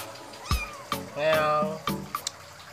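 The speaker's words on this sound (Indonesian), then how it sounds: "Kucing persia medium anakan. Umur 2 bulan setengah." A medium-coat Persian kitten, two and a half months old, gives several short, high meows up close, with a longer drawn-out cry in the middle, amid light handling noises.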